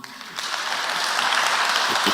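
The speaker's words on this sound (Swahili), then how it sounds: "Hakiri bata kumuhorera makofi mangi" A congregation at a Kikuyu-language church service applauds a speaker: dense, continuous clapping from many hands, fairly close and steady throughout, with faint voices mixed underneath.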